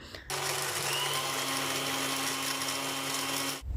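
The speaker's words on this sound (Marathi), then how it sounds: "त्यानंतर आपल्याला हे मिक्सरला चांगलं फिरवून घ्यायचं आहे" A mixer grinder blends a mint drink, whirring steadily at high speed for a few seconds, a loud continuous motor drone that starts and stops abruptly, with no talking.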